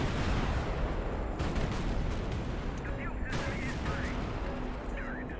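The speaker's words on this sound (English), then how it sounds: "they're just doing nothing but missile spam" Missiles fly in a High Fleet naval battle: steady, heavy volleys of booming launches and impacts over dense combat noise throughout.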